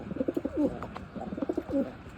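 King pigeons, a male and a female, coo in two soft rhythmic bursts of low throaty calls close by, with a short pause between them and no talk.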